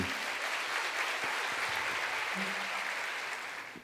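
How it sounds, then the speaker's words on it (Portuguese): Warm applause from a crowd of congress attendees greeting a couple at a wedding celebration, a steady dense clapping that fills the room at full volume and carries on throughout before easing slightly at the end. "recebessem eles com uma calorosa salva de palmas"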